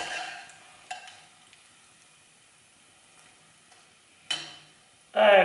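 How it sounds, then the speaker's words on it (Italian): Castagnole, small Italian cream fritters, fry in oil with a soft, steady sizzle, punctuated by a few brief louder crackles and a stronger burst of frying noise at the end. "Sentite il rumore. Questa è la frittura perfetta"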